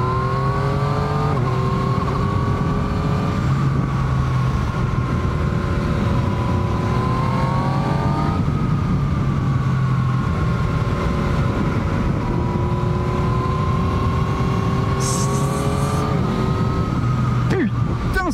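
Yamaha MT-09 2019 motorcycle engine revving and pulling hard through several gear changes, rising and falling tones repeating over a steady roar of wind and road noise; a brief voice appears near the end.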